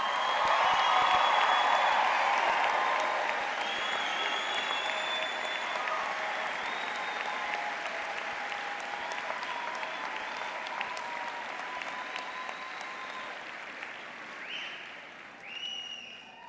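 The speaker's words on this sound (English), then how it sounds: "So another round of applause for" Graduation ceremony audience in a large hall breaks into long applause with a few cheers, strong at first and then settling into a steady, gradually thinning clatter of clapping.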